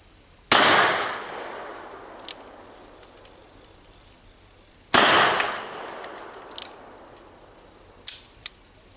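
A 1917 Smith & Wesson DA45 revolver fires two loud, sharp shots about four seconds apart, each followed by a short decaying echo, with faint clicks and a steady insect-like hiss in the background.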